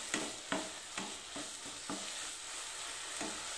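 Carrot halwa cooking down in a pan as its water boils off, a soft sizzle broken by regular scraping stirs of a spoon, close but fairly quiet, no voices.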